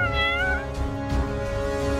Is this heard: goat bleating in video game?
no